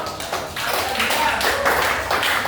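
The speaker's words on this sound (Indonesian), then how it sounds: "Tepuk tangan dong" A class of junior high school students in Indonesia claps together in their classroom, a short burst of brisk, scattered clapping heard close by with light background noise.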